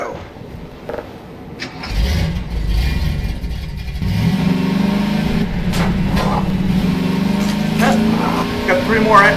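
A car in the video game Half-Life 2 starts up and drives off, its engine droning steadily and loudly from about two seconds on, with a voice talking over it.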